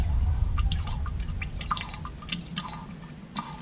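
Water drains from a fuel drain, dripping and splattering in irregular little spurts close up, with a low hum underneath and no talking.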